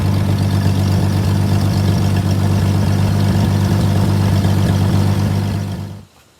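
A World War II-era Clark tractor engine and gearbox run steadily with a loud, deep, even idle drone, close by and unbroken, before cutting off abruptly at the end.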